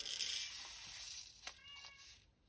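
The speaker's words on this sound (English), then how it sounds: "he's meowing now" A pet cat meows from behind a closed door indoors, giving a few short cries over a steady background hiss.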